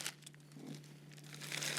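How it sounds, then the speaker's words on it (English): A plastic bag crinkles softly and close by as make-ahead lunch wraps are packed into it for freezing, a few short rustling bursts in a quiet room. "you put them back into a plastic bag"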